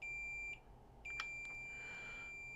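A multimeter gives steady high continuity beeps while probing low-resistance lines on the board of a severely smashed iPhone 13 Pro. There is one long tone, a short break, then another sustained beep with a faint click, heard clearly and alone.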